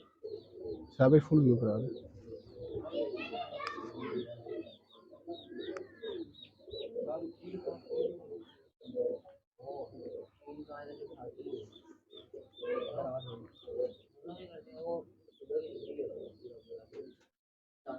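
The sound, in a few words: breeder pigeons cooing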